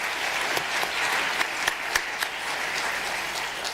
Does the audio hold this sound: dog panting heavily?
no